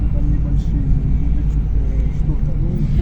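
Car driving through the streets of Kharkiv, heard from inside as a loud, steady low engine and road rumble throughout, with a voice speaking over it.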